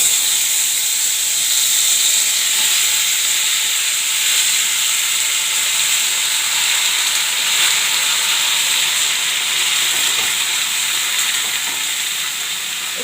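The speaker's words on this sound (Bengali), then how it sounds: "এবার গরম হয়ে গেছে, এবার ফোড়নটা দিয়ে দেবো।" Whole spices for tempering hit hot oil in a pan for a vegetable curry, giving a loud, steady sizzle and hiss that holds close and even throughout, tapering slightly at the end.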